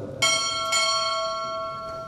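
A ship's bell is struck twice at a U.S. Navy chief petty officer pinning ceremony, two bright ringing strokes close together whose tone hangs and slowly fades, with no talk.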